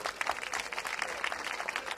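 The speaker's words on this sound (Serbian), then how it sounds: "Još jedan aplauz za gošću iz Zenice." Applause from a festival audience greets a guest singer from Zenica, a fairly quiet but continuous patter of many hands with a faint crowd murmur beneath.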